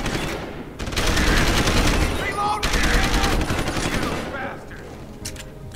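Machine gun fire in the video game Deus Ex: Human Revolution, loud rapid-fire bursts of around a second or more each, separated by brief pauses, close and dominant.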